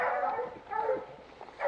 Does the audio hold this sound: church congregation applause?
no